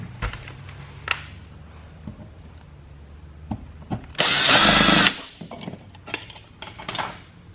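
A cordless power tool drives out the screws of an old, broken electrical outlet in short bursts, with one sustained loud whir in the middle among scattered clicks and knocks of handling.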